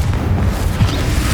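A deep, muffled boom from a Confringo spell blast inside a tomb in Hogwarts Legacy, a brief low rumble that rolls without a sharp crack.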